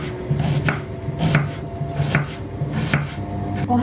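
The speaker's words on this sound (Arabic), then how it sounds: "هلا عندي البصل بدي اقطعه على شكل جوانح،" Onion is chopped into petal-shaped pieces on a board for Indian-style kebab, six evenly spaced, firm knife strikes that are close and clear, with no talk.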